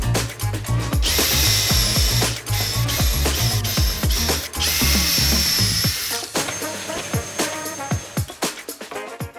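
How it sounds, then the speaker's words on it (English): Power drill driving screws through pocket holes into warped cabinet boards in a DIY workshop, with repeated close, loud whirring bursts and ratcheting clutch clicks, two long high-pitched runs in the middle. "I'm also using more screws than usual because they'll help pull the warped boards into alignment"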